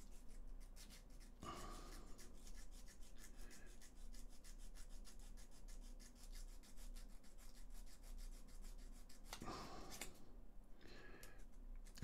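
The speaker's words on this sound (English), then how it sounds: "I might just have a little rub around with that sandpaper again." A wooden forklift model part is rubbed with sandpaper, making a quiet steady scratchy rasp throughout, with two brief louder scraping strokes standing out, no talking.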